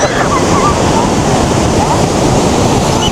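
Rough, wind-whipped water waves roll and crash continuously at close range, a dense steady roar of surf with gusting wind buffeting the microphone, with no talk over it.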